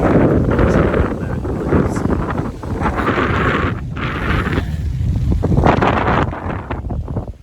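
Strong gusty wind buffets the microphone outdoors in a province after a typhoon, a loud, continuous roar rising and falling in waves with rustling underneath.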